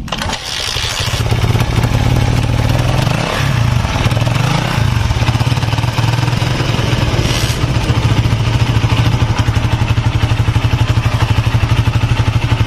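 A Suzuki Sonic 150 motorcycle engine, freshly assembled, kicks into life and runs at a loud, steady, rattling idle close by, uninterrupted for the rest of the clip.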